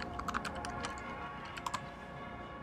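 A coupon code is typed on a computer keyboard: quiet, close key clicks land in a quick irregular run, then pause before a final couple of taps.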